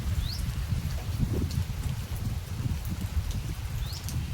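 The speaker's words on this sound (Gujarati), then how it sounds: "વરસાદ ચાલુ થઈ ગયું હારે ને હારે જોઈ શકો" Steady soft patter of evening rain falling outdoors in a Gujarat village, a continuous wash of drops with a couple of faint bird chirps far off.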